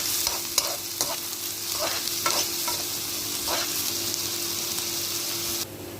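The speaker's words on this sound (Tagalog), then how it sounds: "halo-haluin lang natin. And then, hayaan lang natin siyang lutuin yung sibuyas" Onions sauté in a hot pan under a continuous close sizzle, with several spoon scrapes and stirs scattered through the first few seconds, then the frying carries on steadily without any talking.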